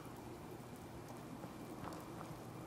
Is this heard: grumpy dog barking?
no